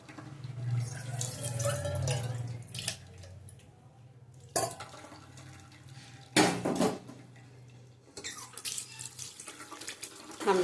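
Cold tap water runs steadily into a kitchen sink while strained papaya chhena is rinsed, with splashing and clinks of utensils and a pan, loud and close, no talk.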